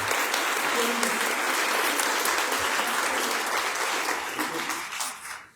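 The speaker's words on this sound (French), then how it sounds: "On peut l'applaudir." Sustained applause from a crowd fills the room, steady and dense, then tapers off near the end.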